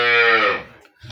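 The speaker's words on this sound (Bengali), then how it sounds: "3 নম্বরের গাভী এটা আমার" A dairy cow with a well-developed udder gives one loud, close moo that starts rich and harmonic and fades out within about half a second, followed by a brief low murmur.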